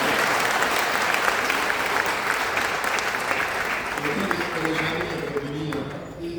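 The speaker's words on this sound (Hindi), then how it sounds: "इस बात पर एक बार जोरदार तालियां" Loud applause from the audience at a Hindi comic poetry gathering (hasya kavi sammelan), continuous clapping that fades slightly toward the end as a voice begins.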